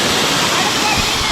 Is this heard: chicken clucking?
no